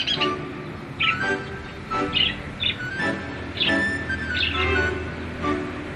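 Zebra finches and budgerigars call in the wild, a string of bright chirps and tweets repeating every second or so over a busy background of softer chatter, fairly close and lively.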